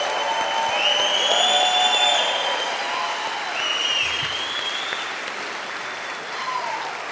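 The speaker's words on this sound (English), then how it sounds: "Let's give them all another round of applause." Steady applause from an awards audience honoring Women in Construction honorees, moderately loud and continuous, with a few whistles and cheers rising over the clapping.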